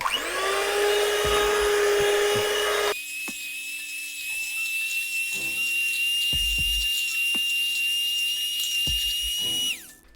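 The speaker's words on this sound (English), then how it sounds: "I'm going to use my handy electric whisk" An electric whisk whirs loudly as it mixes and aerates mead, a high steady motor whine that drops in pitch partway through and runs until it cuts off at the end.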